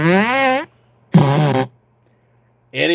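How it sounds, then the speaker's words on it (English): Comedic fart sound effects played back by a studio sound operator during a late-night talk show: two loud, pitched, wavering blasts a second apart, with a third starting at the end, separated by quiet gaps. "he's just gonna keep playing fart effects"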